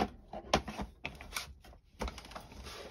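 Two pieces of card are run through a small die cutting machine with a strong flag-shaped die, giving a series of close, irregular clicks and crunches with short pauses between them.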